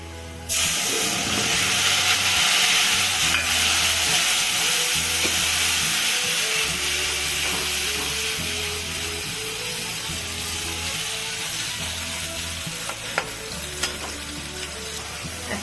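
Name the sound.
spice paste frying in pan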